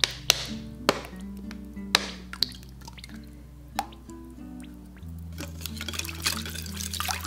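A few sharp drips and taps land into a bowl, then water and oil pour in steadily for doughnut dough, with clinks of a utensil along the way.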